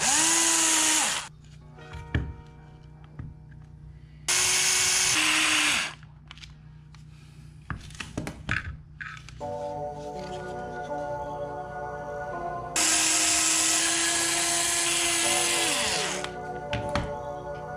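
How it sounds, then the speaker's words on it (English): Power drill driving screws while building a DIY battery-powered electric airplane tug, heard in three long, loud whirring bursts separated by quieter clatter and handling noise. "Then I drilled some holes and screwed everything down."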